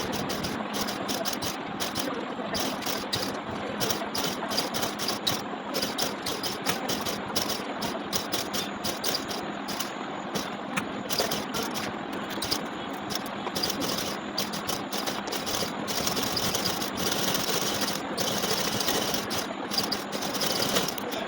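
A sewing machine runs steadily and closely for the whole stretch, stitching lace onto a blouse with a fast, even mechanical whir and clatter and no talking.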